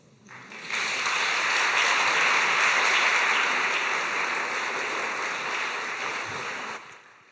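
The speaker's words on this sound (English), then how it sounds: "this is already a wonderful moment just to give us an applause" Conference audience at an international policy gathering in Berlin breaks into sustained applause, a dense wash of clapping that swells quickly, holds steady for about six seconds, then fades out near the end.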